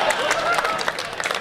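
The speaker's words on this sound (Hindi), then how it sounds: "तो अगर कृपा चाहिए तो एक बार मिलकर ताली बजाओ" A crowd at a Hindi political speech breaks into clapping together, a brief, dense patter of hands at moderate distance.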